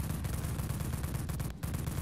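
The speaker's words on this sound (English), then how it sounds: "And then I tag him really quick with the Wraith cannon" Wraith cannon firing in Dead Frontier, a rapid stream of heavy shots packed into a dense rumbling burst with a brief break near the end before resuming.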